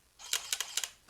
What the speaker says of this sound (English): the shutter is so slapping so hard on this very light body